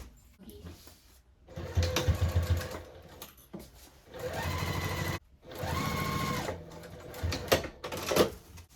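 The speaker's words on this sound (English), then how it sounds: "we'll go ahead and base stitch that on" A sewing machine base stitches a zipper onto a tote bag, running in several close bursts of steady mechanical whirring and needle clatter, broken by short pauses and slow single stitches.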